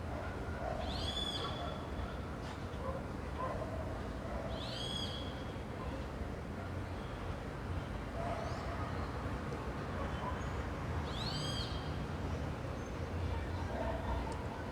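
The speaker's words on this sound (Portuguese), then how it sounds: "Parece um periquito, parece um periquito." A bird gives three shrill, parakeet-like screeches spaced several seconds apart, loud over a steady wash of background noise.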